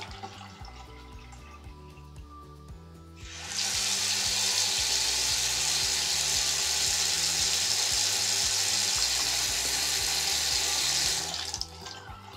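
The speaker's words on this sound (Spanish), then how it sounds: "esta llave, pues como ya está vieja, fea, le falta aquí una pieza, tira bastante agua." An old, worn bathroom sink faucet with a missing part turns on and gushes water at high pressure, a loud steady rushing splash that runs for about eight seconds before cutting off, with no talk.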